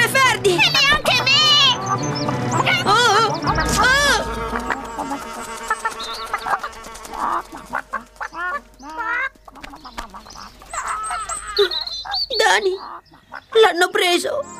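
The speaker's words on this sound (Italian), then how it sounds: "Le galline hanno catturato Ferdi" Hens clucking and squawking close by amid animated, exaggerated voices in an Italian-dubbed cartoon, with busy bursts of cartoonish chatter and fowl noises throughout.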